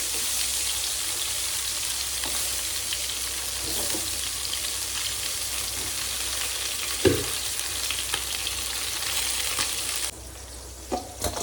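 Fish pieces marinated with salt and turmeric sizzle steadily in hot oil, a dense continuous crackle with a few sharp pops, dropping off sharply near the end.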